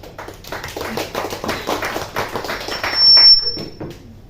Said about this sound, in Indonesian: mau tepuk tangannya.